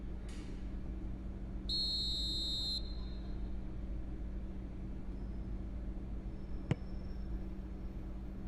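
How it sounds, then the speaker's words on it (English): Referee's whistle in the PES 2021 football video game at a Manchester City vs Chelsea match at the Etihad Stadium: one sustained, shrill blast of about a second over a steady low stadium crowd hum. "Whistle's gone, that's a foul."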